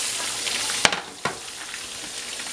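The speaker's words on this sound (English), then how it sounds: "these have been deep frying a while" Jalapeno bacon duck wraps deep fry in hot oil with a steady, loud sizzle and crackle, broken by a couple of sharp pops.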